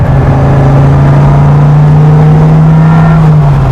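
A 2017 Dodge Viper's engine and exhaust drone steadily while driving, a loud, constant low hum that holds a single pitch for several seconds with no talk over it.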